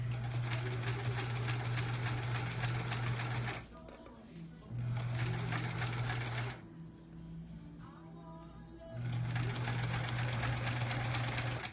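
A sewing machine stitches fabric in steady, fast mechanical bursts, running for a few seconds, pausing, then starting again, fairly close, with a person talking quietly during the pauses.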